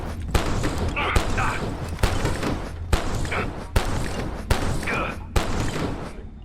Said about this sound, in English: shoot your friend with the shotgun